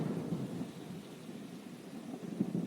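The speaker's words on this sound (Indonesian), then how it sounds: "Tiba-tiba petir dahsyat menghantam rumah majikanku yang megah" Deep thunder rumbles low and heavy over a steady hiss of rain, rolling on throughout with a couple of stronger swells, alone with no voices, set as an effect beneath a horror story narration.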